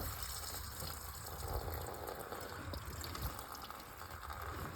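Coolant drains from the radiator of a 1972 Ford Gran Torino, a quiet steady trickle and gush of liquid that continues throughout without talk.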